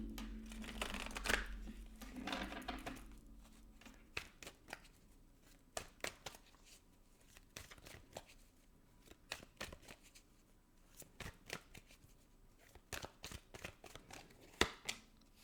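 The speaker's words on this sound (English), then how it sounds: "let me pull an oracle card and then I will explain" Oracle cards being shuffled by hand, a run of crisp riffling flutters followed by scattered sharp card slaps and taps, close and fairly quiet, with no talking.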